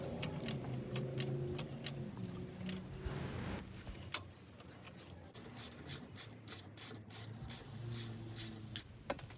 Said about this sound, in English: we're going to lift the vehicle after loosening the lug nuts.